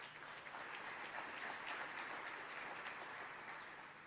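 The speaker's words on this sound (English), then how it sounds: "Give yourselves a round of applause." A graduation audience in a university hall applauds steadily and loudly, a dense wash of clapping hands that holds for about four seconds with no talk over it.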